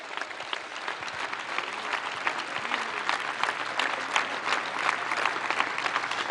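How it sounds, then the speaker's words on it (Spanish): A political audience in Argentina breaks into dense, steady applause for voluntary solidarity contributors, the clapping loud and unbroken from start to finish with no voices over it. "yo quiero públicamente pedir un aplauso para los que hicieron ese aporte voluntario solidariamente para la Argentina"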